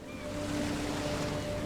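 Steady ocean surf washes continuously in The Sinking City video game, a broad even roar of waves with wind mixed in, with no talking.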